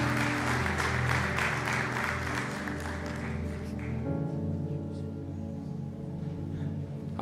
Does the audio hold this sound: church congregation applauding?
yes